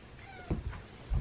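A cat gives a short meow, close and moderately loud, followed by a soft chirp, with faint room tone and no talking.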